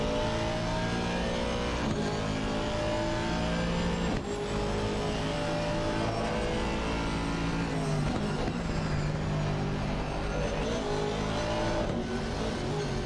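GT3 race cars lap Donington Park in the Assetto Corsa Competizione racing game, with engines revving hard and continuously while gears shift and revs rise and fall, loud and close throughout.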